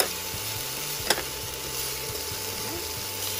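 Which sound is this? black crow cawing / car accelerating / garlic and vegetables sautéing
garlic and vegetables sautéing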